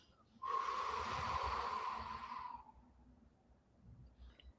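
A long, deep exhale through the nose or mouth during a paced breathing exercise, a close, airy rush lasting about two seconds and then fading into quiet room noise.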